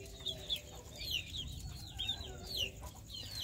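Hens cluck softly in a quiet yard, a few short high calls repeating in loose bursts over a low background hum.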